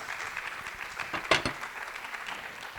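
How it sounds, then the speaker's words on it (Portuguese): An audience at a public panel debate applauds its participants, a moderate, even patter of clapping that runs the whole time with one sharper, louder burst partway through. "Aplausos aqui para os nossos participantes debatedores"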